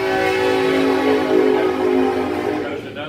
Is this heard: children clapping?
no